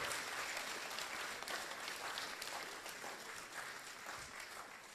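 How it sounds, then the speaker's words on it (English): An audience at a speaking event gives a round of applause, a dense, sustained clatter of many hands clapping at moderate distance that slowly tapers toward the end. "she deserves a further round of applause"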